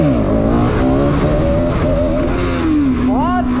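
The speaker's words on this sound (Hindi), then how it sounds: "अब व्हीली मार के देखते हैं व्हीली कैसी जा रही है न्यू एक्सीलेटर वायर के साथ" A Bajaj Pulsar NS200 motorcycle with a new accelerator wire revs hard and loud during a wheelie, its engine note rising and falling, heard up close with someone talking over it.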